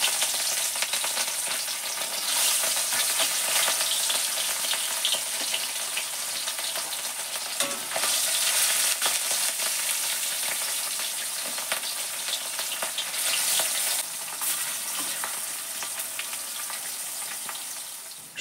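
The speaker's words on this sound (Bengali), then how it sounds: "তারপরে লবণ হলুদ মাখিয়ে মাছগুলো এখন ভেজে নিলাম" Fish coated in salt and turmeric sizzles and spits steadily in hot oil, a close, continuous fry with brief louder crackling bursts and no talking.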